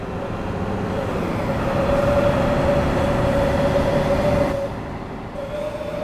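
A DB BR 642 diesel multiple unit rolls along in the Train Sim World 4 simulation, with steady rumbling wheels and a faint whine. The sound drops off a bit near the end and no one speaks.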